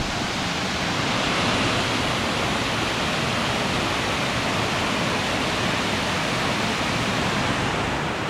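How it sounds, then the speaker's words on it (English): A multi-tiered waterfall on Connecticut's Salmon River pours with a steady, broadband roar, constant and fairly close, with no voices over it. "This is another like stupidly photogenic waterfall."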